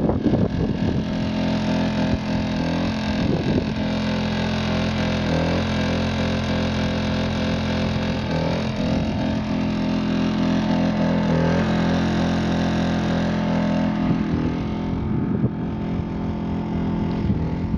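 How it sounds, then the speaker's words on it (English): A Kipor KGE-1000ti inverter generator runs at full speed, giving a steady, loud, close engine drone with a rough buzzing hum that holds unchanged throughout, with some wind noise. "Keep in mind it is running at full speed, so it is a bit noisy"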